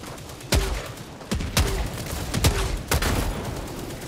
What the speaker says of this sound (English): Something is shooting at us.